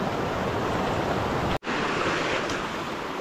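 River current rushing steadily near Tuay Falls, the flow somewhat gentler than upstream: a dense, close wash of water noise that runs unbroken apart from one abrupt momentary cut partway through.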